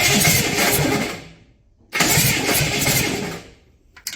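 A GMC engine cranks on its starter motor with no fuel hooked up, in two loud sustained bursts of churning about 1.5 s each, split by a short silence, with a brief third blip at the end.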